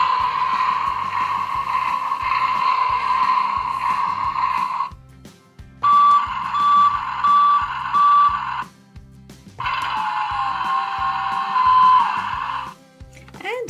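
Toy Tonka garbage truck sounding electronic effects from its buttons, loud beeping tones in three long bursts separated by brief pauses, over a rhythmic low pulsing pattern.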